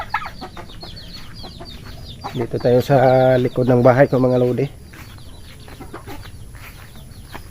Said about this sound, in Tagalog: Nakabantay lang natin sa labas ang ating mga alagang manok